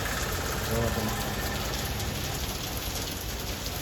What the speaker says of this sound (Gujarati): ધીમે ધીમે વરસાદ ચાલુ થઈ ગયો છે